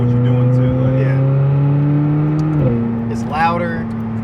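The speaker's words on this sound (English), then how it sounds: "It's louder, and this is a factory exhaust. It's still loud, shotgun blast, shoots flames." A 2020 McLaren 600LT Spider on its factory exhaust holds a loud, steady engine note close by, its pitch dipping and then settling about halfway through, with a short rasp near the end and the engine filling the whole stretch.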